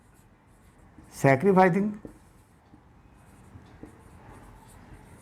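A formula is written by hand during an accountancy lesson on profit sharing ratios. Soft, faint scratching follows a brief spoken word from a nearby voice.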